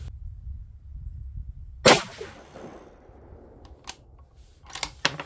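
A single sharp, loud report from a 6.5 PRC rifle firing a 147 ELD-M load cracks out after a quiet stretch and decays quickly, followed by a few faint, short clicks.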